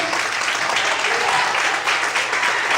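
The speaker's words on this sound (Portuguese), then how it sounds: "Aplaude o Senhor em paz" Church congregation applauding during an evening worship service, a steady dense wash of clapping from many hands that holds evenly throughout, with faint voices mixed underneath.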